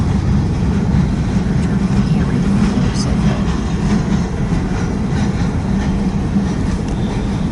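Freight train of boxcars rolling past, a steady loud low rumble with rail noise held throughout, continuous and close.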